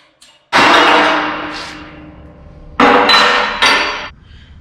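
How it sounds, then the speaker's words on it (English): Steel punch hammered to drive a leaking boiler tube stub out of a tube sheet hole: two loud, ringing metallic blows with a faint tap before them, each decaying slowly, close up and without talk. "That's where I was hammering and driving it out."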